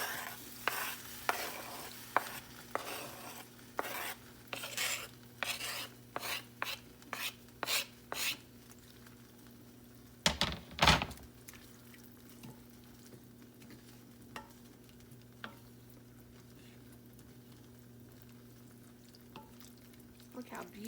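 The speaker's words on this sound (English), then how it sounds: "To this, I'm going to add my diced tomatoes." Diced tomatoes stirred into a skillet with cooked black beans and rice, a spoon scraping in a quick run of strokes, then softer sizzling and occasional clinks under a faint steady hum.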